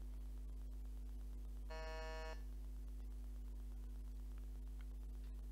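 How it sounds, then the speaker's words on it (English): A single quiz contestant buzzer sounds once during a test, a short bright electronic tone lasting under a second over a constant faint mains hum. "Can you all just try your buzzers once for me"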